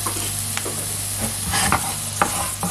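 Onions fry in a pan with a steady loud sizzle, broken by a few sharp scrapes and clicks as they are stirred, with no voices.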